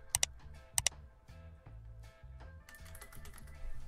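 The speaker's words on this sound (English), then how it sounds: "you have to type this command out" Fast, light keystrokes on a computer keyboard as a command is typed into a Discord chat, with several sharper clicks mixed into a steady quiet patter.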